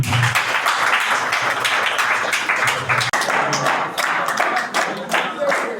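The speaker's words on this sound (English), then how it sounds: "Please clap for yourself." Students in a large school crowd clap together at a drug abuse sensitisation program, a dense, steady wave of applause lasting throughout with some voices mixed in.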